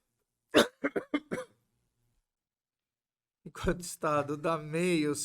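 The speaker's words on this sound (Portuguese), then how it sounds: "por isso ele tá tossindo" A short run of four or five quick coughs, then a pause, followed by someone speaking at close range.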